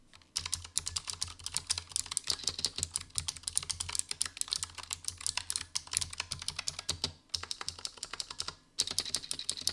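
Rapid, clicky typing on a compact mechanical gaming keyboard, close up, with dense keystrokes and a couple of brief pauses.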